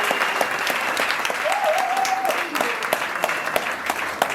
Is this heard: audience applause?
yes